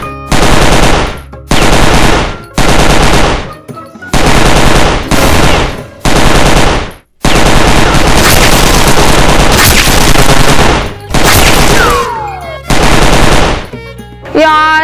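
Gun firing in a PUBG-style real-life comedy skit, loud close bursts of rapid automatic fire repeated in several long volleys with brief pauses between them.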